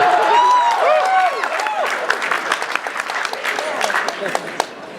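Audience applause and clapping at a horror convention panel, a crowd clapping loudly with some cheering and laughter while voices talk over the start, then sharp scattered claps continue.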